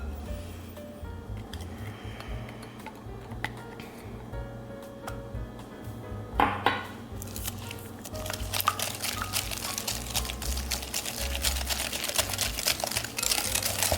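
Eggs are whisked by hand in a bowl for Christmas cookie dough, a steady rapid clatter of metal wires against the bowl that grows louder and more vigorous in the second half.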